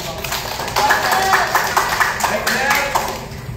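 A group claps hands together during a taekwondo-style class at a mall, a burst of scattered close claps under an instructor's speaking voice.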